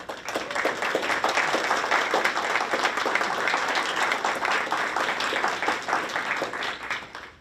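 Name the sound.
applause for school board members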